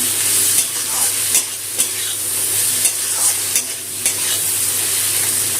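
Spice paste stir-fried in oil in a pan while cooking a raw boal fish curry, loud steady sizzling broken by repeated spatula scrapes and knocks against the pan, no voices.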